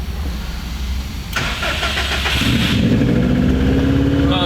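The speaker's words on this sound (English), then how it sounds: "this is going to be my first time ever starting this car and driving it" A rare Subaru WRX fires up for the first time: a starter crank, then the engine catches and settles into a loud, rough idle close by.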